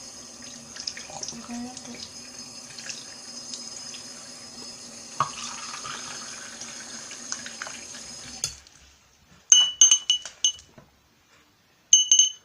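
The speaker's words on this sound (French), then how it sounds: "Je vais peut-être mettre en dessous de l'eau chaude." Hot tap water runs steadily into a sink over a lump of slime, then stops, followed by a few close clinks and knocks. A person speaks briefly over the running water.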